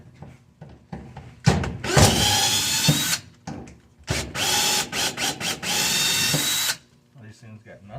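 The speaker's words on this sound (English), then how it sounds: "So I got a drill. Hand me that drill right there." A power drill whirs in several bursts, long high-pitched runs with short stops between them, as it works on a plate on a 1959 Ford F100 steering column in a garage, with a few clanks and brief talk between runs.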